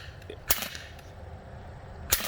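Two sharp snaps from a Drozd BB gun being fired outdoors, one near the start and one near the end, separated by a steady low background rumble with no talk.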